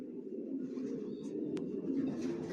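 A group of racer pigeons kept together cooing in a faint, continuous low murmur, quiet and unbroken throughout.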